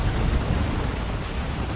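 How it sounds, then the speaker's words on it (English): A front-mounted las cannon fires in a Dawn of War 2 battle against Orks, a dense, rumbling blast that booms continuously and loudly for a couple of seconds with no voices over it. "Human Rush shooting that front-mounted las cannon"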